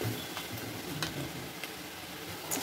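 Vermicelli frying crisply in a pan for sheer khurma, a steady dense sizzle throughout with faint crackles and occasional sharper pops, close and unbroken, no voices.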